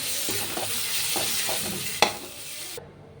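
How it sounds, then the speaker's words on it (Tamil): Chicken pieces stirred into masala in a pan, giving a steady sizzle with several soft scraping strokes and one sharper clack near the end, close and alone. "இதையும் நான் ஆட் பண்ணிக்கிறேன். இந்த மசாலாவோட நல்லா மிக்ஸ் பண்ணிக்கலாம்."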